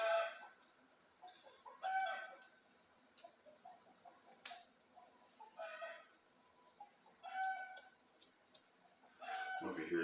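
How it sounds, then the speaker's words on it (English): A chicken clucks and crows outside in scattered bursts, distant and faint, with some clicks nearby and a louder noise at the very end. "It sounds like I got a chicken going crazy out there right now."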